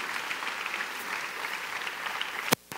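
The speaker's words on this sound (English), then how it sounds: "Can I get a round of applause for beauty?" Audience at an arts and culture summit applauding, a steady moderate wash of clapping from a seated crowd that ends with a sharp bump and sudden cutoff.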